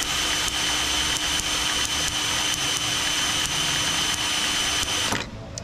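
Magneto from a FlaK halftrack engine spun at cranking speed on a bench, giving a steady high whine with faint regular ticking of sparks, ending abruptly as it stops.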